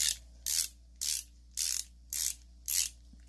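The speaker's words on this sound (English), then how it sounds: "Ratchet works fine." The ratchet of a Stanley 16-piece passthrough socket set gives six evenly spaced bursts of rapid, crisp clicking, loud and close, separated by short silences.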